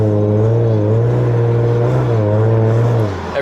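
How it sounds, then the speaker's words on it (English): A car with a check-engine light and a rattling fault idles with a steady low engine hum; its pitch rises slightly as the throttle is blipped, then eases back down before dropping off near the end. "Let's see if I can pop the throttle a little bit to make you hear the noise."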